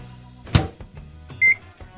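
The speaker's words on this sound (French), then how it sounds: "Fais fondre des bonbons mous au micro-ondes." Microwave oven heating soft candies to melt them: a sharp clunk of the door or button, light handling knocks, then a single clear electronic beep near the end.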